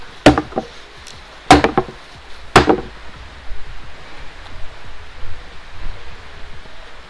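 A dog digging a hole in the background: three sharp scratching bursts spaced about a second apart, then softer, uneven scraping and rustling.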